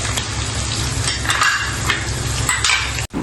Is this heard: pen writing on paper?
no